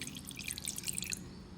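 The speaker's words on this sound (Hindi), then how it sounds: "थोड़ा सा पानी डालूंगी इसमें मैं," A little water poured into a bowl of raw chicken liver soaking in lemon juice, a brief bright splash and trickle lasting about a second, close and alone.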